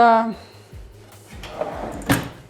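A kitchen cutlery drawer slides open with a brief wooden rumble and a light knock at the end, following a short tonal sound at the start.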